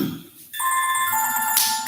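A telephone rings with a steady electronic ringtone, loud and close, beginning after a brief pause and continuing alone without speech.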